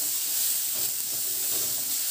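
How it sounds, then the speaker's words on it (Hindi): Ginger, garlic and green chili paste frying with asafoetida in a pan over a low flame gives a steady, close sizzling hiss, continuous and alone without talk. "अब गैस को मैं स्लो कर दूंगी, इसको स्लो आंच पर ही भूनना है।"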